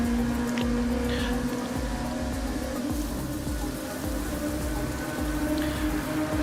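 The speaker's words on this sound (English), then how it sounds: "We're at a very wet and rainy spa." Rain at the wet Spa racing circuit in a racing video game, a dense continuous patter and hiss with a low rumble underneath, steady and loud, with no voices.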